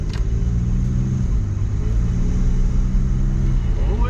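An Infiniti G35 sedan, a cheap used car with poor brakes, drives and accelerates, its steady low engine rumble and road noise filling the cabin at a constant loud level, with a rising rev tone near the end.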